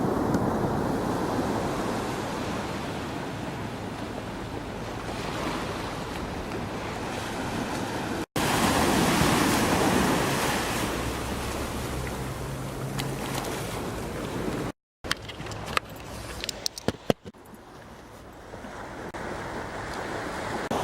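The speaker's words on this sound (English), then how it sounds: "I'm at the beach at just about sunrise" Ocean waves wash steadily onto a beach at about sunrise, a loud continuous surf roar with wind buffeting the microphone, broken by brief cuts and rustling handling noise near the end.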